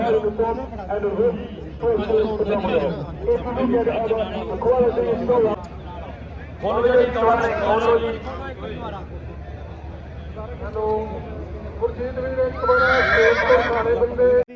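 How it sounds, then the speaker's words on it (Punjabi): A champion mare at a Punjab horse show neighs and whinnies amid steady crowd chatter and talk, with hooves clip-clopping at times; the whinnies rise loudest near the end. "ਬਹੁਤ ਸੋਹਣੀ ਘੋੜੀ ਆ ਚੈਂਪੀਅਨ ਘੋੜੀ ਆ"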